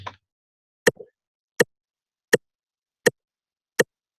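A metronome set to 82 BPM ticks five times at an even, steady pulse, each click sharp and clear, following a brief faint noise at the start.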